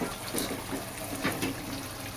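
Hot water poured into a rinsed wok-style kadhai that held chicken curry, a soft, steady splashing and trickling heard close by without talk.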